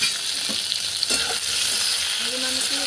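A green chili frying in oil in a wok for tomato chutney, with a bright continuous sizzle and a few spatula knocks and scrapes against the metal.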